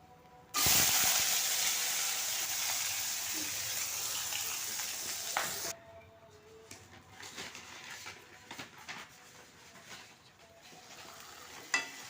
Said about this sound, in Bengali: তেল গরম হয়ে গেছে, পাঁচফোড়ন তেজপাতা তো দিয়ে দিলাম। এখন সবজি পালাবো।